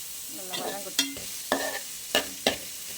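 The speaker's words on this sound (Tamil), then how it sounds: "வெங்காயம் இந்த அளவு வதங்கிடுச்சா?" Onions sauté in a pan for a banana flower and drumstick leaf stir-fry, giving a soft steady sizzle broken by several sharp scraping stirs of a spatula.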